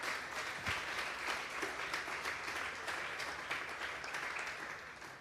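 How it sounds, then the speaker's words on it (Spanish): Congregation at a Sunday afternoon church service bursts into steady, sustained applause, a dense wash of many hands clapping evenly throughout with no voices over it. "Denle un fuerte aplauso pues al Señor esta tarde."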